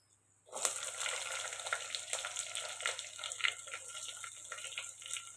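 Small onions, crushed garlic and ginger drop into a hot pan and burst into a loud, steady sizzle that crackles on without talk.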